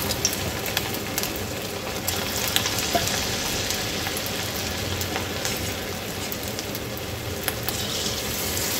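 Cabbage Manchurian balls sizzle steadily in hot oil over a medium-high flame, a dense, even crackle with scattered small pops that holds at one level throughout, close and with no talking.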